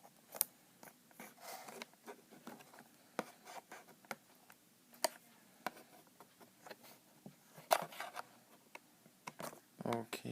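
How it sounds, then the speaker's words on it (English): Small scissors cut through packaging tape while unboxing a Beyblade Legends Omega Dragonis 85XF toy, heard as close, quiet scratchy snips and rustles in an irregular run of short bursts, with no talking. "Let's cut through the tape here."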